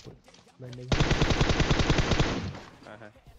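A rapid burst of full-auto gunfire in PUBG, loud and evenly spaced for about a second and a half, preceded by a short engine-like hum and faint tail afterward.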